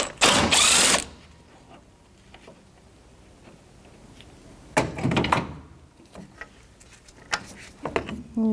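Ratchet with a 10mm socket removing mounting bolts on a 2006-2012 Toyota RAV4 2.4L, two loud bursts of rapid clicking separated by quiet, with a few lighter clicks and knocks near the end.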